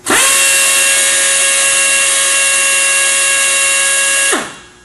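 A Torc-Up Raptor pneumatic torque wrench breaks a nut free with one steady, loud, high whine lasting about four seconds, then winds down quickly to a stop.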